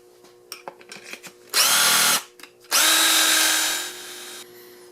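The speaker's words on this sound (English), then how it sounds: "We're going to drill 2 holes in it." Power drill boring two holes into short 9-inch wooden end pieces held in a jig, each burst a loud steady whine lasting about a second, the second run longer and winding down, preceded by light handling clatter.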